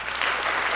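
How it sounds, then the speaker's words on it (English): A small group claps in a brief, steady round of applause, dense and close, heard alone without talking. "Gonna get a round of applause for that"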